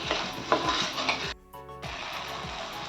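Ingredients for fish curry fry in a hot pan, a close sizzle broken by spatula scrapes and stirring clatter, briefly dipping quiet before the frying resumes, and no talking.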